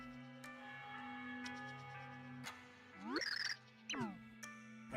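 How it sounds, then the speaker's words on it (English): Bells chime in the Super Paper Mario video game, a few bright ringing strikes heard over steady game music, with a rising chime flourish near the end. "I hear bells."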